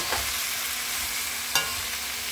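Vegetables cooking in a home pan give a steady sizzle and frying hiss, with a couple of sharp stirring scrapes of a utensil near the end.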